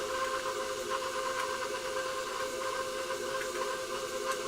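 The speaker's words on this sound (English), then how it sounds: "we are going to cream our butter and our sugar together in the mixer for about 8 minutes" Butter and sugar being creamed in a stand mixer, a steady droning whir with an even tonal hum and a faint rhythmic beat, continuous and fairly close, with no one speaking.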